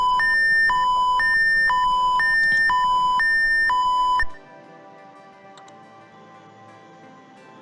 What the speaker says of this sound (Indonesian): maka alarm akan menyala.